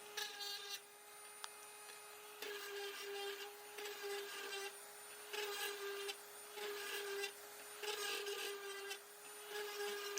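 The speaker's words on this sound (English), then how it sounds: "normally you would actually move the sander slower than this" A sander works over the wooden frame of a model logging truck trailer, giving a steady, fairly quiet whine with a droning tone. Its grinding swells and eases in repeated passes, and no one speaks.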